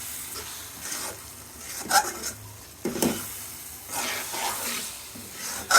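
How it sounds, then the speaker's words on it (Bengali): Milk powder stirred into carrot halwa in a pan, a soft scraping stir with gentle sizzling and a few sharp spoon knocks against the pan rim. "তিন চামচ দিলাম দিয়ে তাকে নাড়বো"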